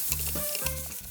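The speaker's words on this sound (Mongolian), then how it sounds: "Хайруулын тавг дээр хангалттай хэмжээний цэцгийн тос хийгээд маха зөөлөн гадаар шарж өгнө" Chicken pieces stir-fried in butter with curry paste sizzle briefly as a utensil stirs and scrapes the pan, close and continuous.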